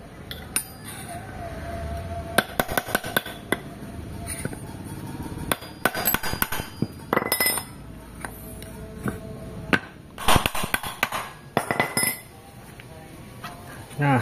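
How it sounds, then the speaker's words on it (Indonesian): A flat screwdriver is struck with a hammer to knock out a CVT bearing on a carbureted Honda Beat motorcycle, giving sharp metallic taps and clinks in irregular clusters at close range, with some handling noise between strikes. "untuk membuka ini kita pakai obeng min, lalu dipukul berurutan ya."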